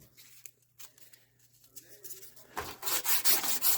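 Sandpaper rasps against a part from a 1964 Mercury Comet that sat unused for 23 years, quiet scattered scrapes at first, then loud, steady back-and-forth strokes near the end.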